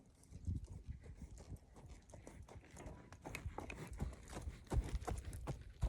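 A semi-retired mare trots on a lunge in a riding arena, her hooves clopping in a steady rhythm, close and fairly quiet, with a few stronger hoofbeats near the end.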